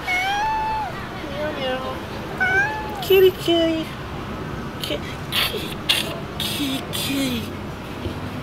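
A cat meows repeatedly at a temple grounds near Bangkok's Chinatown, a series of clear, close, drawn-out meows over faint background chatter, followed by scattered clicks and bumps.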